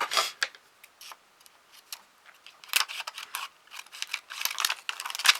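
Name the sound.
cutting paper ribbon with scissors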